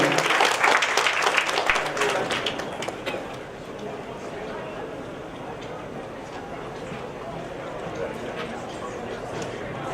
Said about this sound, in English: So big round of applause, please, for our fabulous speakers on stage